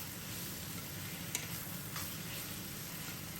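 Whole spices, including black cardamom, stirred in a pan: a faint, steady hiss with a few soft scrapes and one small click, and no talking.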